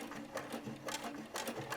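A domestic sewing machine top-stitching around a shirtwaister dress rever collar corner, its quiet, steady rapid whirring pulsing in short bursts as the needle runs.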